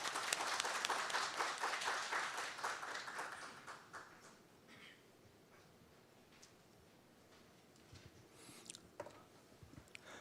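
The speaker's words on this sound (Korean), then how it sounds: "박수로 맞이해 주시기 바랍니다." Audience applause at a financial crime prevention seminar welcomes a speaker, a brisk burst of clapping for about four seconds that quickly dies away, leaving quiet room noise with a few faint clicks and thumps.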